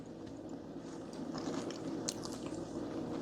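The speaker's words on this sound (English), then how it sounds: "Soft on the inside and crunchy. I wish you could hear this crunch." Crisp crunching bites and chewing close up on a fried Jamaican festival dumpling, a steady run of small crackly snaps over a low hum, with no talking.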